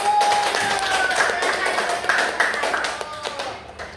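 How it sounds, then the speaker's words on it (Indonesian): Group clapping from a class of fourth-grade students in a classroom, a dense patter of many hands lasting several seconds and tapering off at the end, with children's voices mixed in underneath. "Oke, tepuk tangan untuk kelompok 1."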